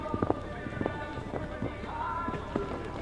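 A horse gallops quickly over turf between fences during a show jumping round at an international competition, its hoofbeats coming as soft, rapid thuds at moderate distance against steady crowd and arena ambience.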